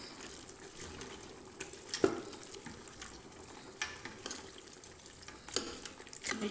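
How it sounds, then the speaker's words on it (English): A spoon stirs Nigerian bitter leaf soup in a cooking pot, making soft irregular scrapes and knocks against the pot with a few sharper clinks over a low background hiss. The stirring is close and no one speaks. "Then I stir."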